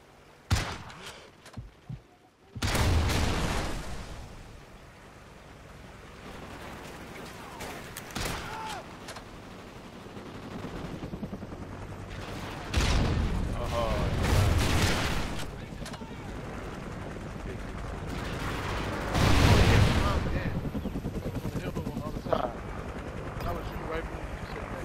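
In the video game Call of Duty Ghosts, a friendly attack chopper killstreak fires bursts of machine-gun fire amid helicopter rotor noise and explosions, loud intermittent volleys with voices talking between them.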